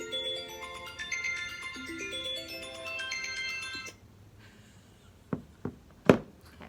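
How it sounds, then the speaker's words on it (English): A mobile phone plays a melodic ringtone for about four seconds, fairly loud and close, then stops, followed by a few short sharp vibration buzzes and knocks. "I was sure I shut my phone off."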